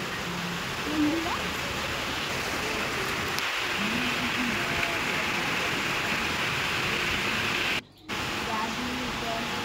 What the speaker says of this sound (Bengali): আর বৃষ্টিটা আরও সবই বৃষ্টি হচ্ছে, সারাদিন বৃষ্টি।